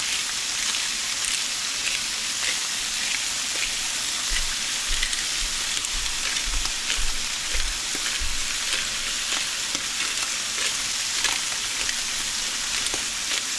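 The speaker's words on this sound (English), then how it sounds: "So now I'm gonna let it cook on this side a bit." Walleye fillets frying in butter in a pan give off a steady, close sizzle and crackle that holds for the whole stretch, with a few faint low bumps and no voices.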